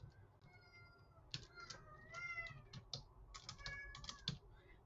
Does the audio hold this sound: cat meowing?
yes